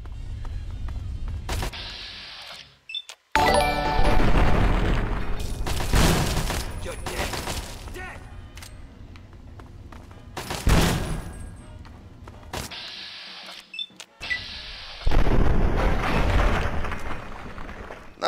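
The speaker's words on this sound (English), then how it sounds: "Not a good shotgun." Shotgun blasts in Fallout 3 come as several loud, separated booms with quieter gaps of game ambience between them, and a voice talks at points.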